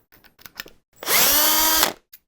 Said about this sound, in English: they came up with a way to trim your brass by using a electric drill